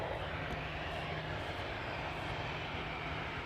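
An aircraft takes off at Amsterdam Schiphol Airport near the Polderbaan, its engine noise a continuous broad roar heard from a distance, with no talk.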